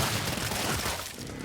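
A sawed-off shotgun fires in Killing Floor 2, producing a dense, loud, continuous blast of gunfire and impact noise with booming low end across the whole moment, fading slightly toward the end.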